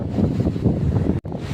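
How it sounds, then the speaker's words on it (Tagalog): Strong wind at sea on a boat buffets the microphone in a steady, close, low roar, with one brief dropout. "Lakas ng hangin, no?"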